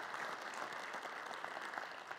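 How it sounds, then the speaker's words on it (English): Audience at a men's night event in Cleveland, Ohio applauds in a steady, fairly faint wash of clapping from a crowd in a hall. "give them a round of applause"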